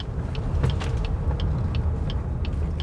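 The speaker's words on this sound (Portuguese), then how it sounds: "eu vou pisar fundo aqui e fazer uma curva" A GWM Haval H6 PHEV35 hybrid SUV accelerates hard into a curve, giving a steady, loud rumble of road and drivetrain noise with faint higher whines and light clicks, heard from inside the cabin without talk.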